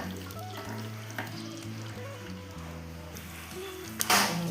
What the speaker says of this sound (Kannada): ಈ ರೀತಿ ಸಾಸಿವೆ ಚೆನ್ನಾಗಿ ಪಟಪಟ ಹುಟ್ಟಬೇಕು